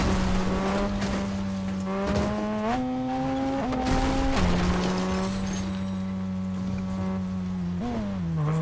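A car driven in the video game Fortnite hums with a steady engine drone, its pitch stepping up and down through shifts, with brief tire-squeal textures, loud and continuous with no talk.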